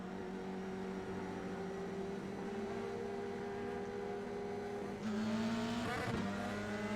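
F3 race cars launching from the start at Watkins Glen in the iRacing video game, a steady engine whine that rises through upshifts, then a louder pitch jump after about five seconds as the pack accelerates.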